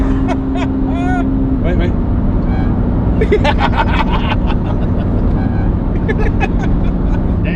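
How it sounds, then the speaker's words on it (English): Ferrari Testarossa engine droning steadily from inside the car while driving, a loud constant rumble underneath someone talking briefly at the start. "I'm driving a Ferrari Testarossa."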